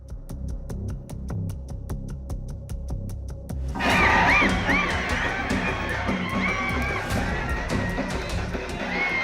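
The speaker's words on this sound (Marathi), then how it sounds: "हा जल्लोष आहे शहाजीबापू पाटील यांच्या सांगोल्यातील" Crowd celebrating a municipal election win in Sangola: a few seconds of rhythmic beating, then a loud, dense wave of cheering, shouting and whistling that continues steadily to the end.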